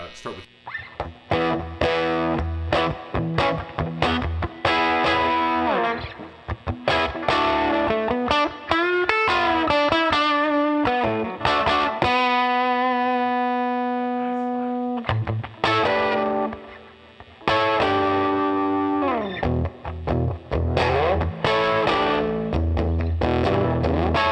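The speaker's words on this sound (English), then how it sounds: "Let's get some tones in the standard humbucker mode." Distorted electric guitar in humbucker mode plays chords and riffs with sustained ringing notes and brief pauses, loud and close, with a thick, warm tone.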